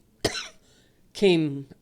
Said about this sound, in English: Sorry, little coughing thing there going on.